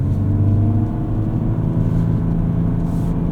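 A 2024 Ford Ranger Raptor on mud-terrain tires rolls through snow in two-wheel drive high, its engine giving a steady, close low rumble with a faint rise in revs and no talk over it.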